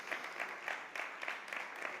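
Audience applause at a Madrid round-table business event, dense continuous clapping from a crowd throughout, fairly loud and even.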